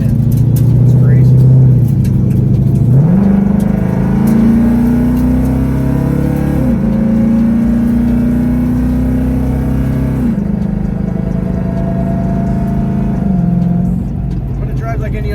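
Street car engine revving and accelerating hard through the gears, loud and close, with pitch climbing in steps and dropping at each shift.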